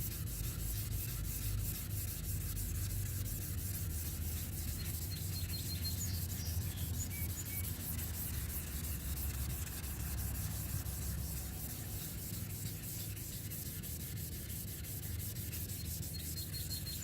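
Steady wet sanding of a car headlight lens by hand, a continuous close scrubbing rasp that keeps on without pause and with no talk.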